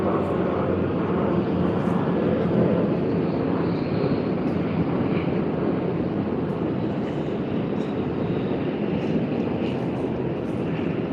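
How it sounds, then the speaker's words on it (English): A Qantas Airbus A330 in Pride in the Air livery, arriving from Denpasar at Sydney Airport, gives a steady, loud jet roar that holds without break across the whole stretch, with no talk over it. "We have Qantas QF44 coming in from Denpasar on its Airbus A330 with the Pride in the Air livery."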